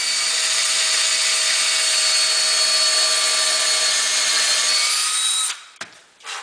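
A power drill drives screws through a wall cabinet near a hinge hole. The motor whines loudly and steadily for about five seconds, then cuts out, followed by brief handling noises.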